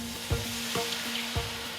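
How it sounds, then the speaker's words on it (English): Peppercorns hit a smoking-hot dry pan during quick cooking, giving a steady sizzle with three sharp crackling bursts at regular intervals, near and fairly quiet, with no talking. "That'll sizzle."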